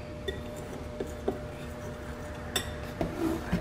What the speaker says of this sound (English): I just usually take my fork and just mix it all up.